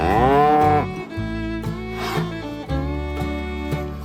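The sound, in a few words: dairy cows mooing in green pastures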